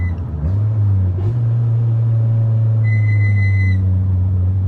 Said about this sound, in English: Go down to second if you want, slow down, give it a full throttle.